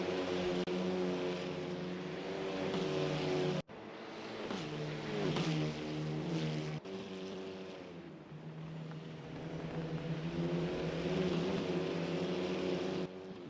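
Polo Cup race cars scream past on a circuit with loud, sustained engine drones that rise and fall in pitch as they accelerate and shift gears, several cars heard in turn with no talking.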